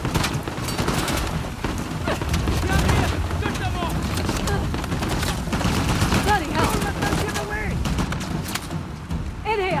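Gunfire in the video game Uncharted: The Lost Legacy: dense, continuous bursts of shots and booms fill the scene, with shouted voices and game music mixed in throughout.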